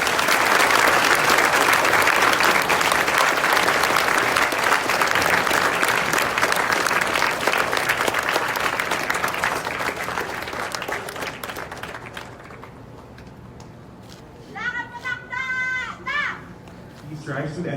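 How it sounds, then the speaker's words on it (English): Loud, sustained applause from an audience at a college moving-up ceremony for a guest and the college president, a dense wash of clapping with children's voices mixed in that fades over about twelve seconds, leaving brief chatter and scattered sounds. "And now, a big round of applause for our distinguished guest"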